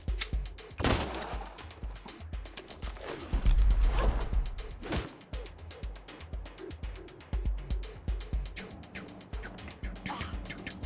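Gunfire in the video game Wasteland 3: rapid bursts and single sharp shots, some volleys overlapping into dense fusillades, then a string of evenly spaced cracks, all fairly close and with no talk.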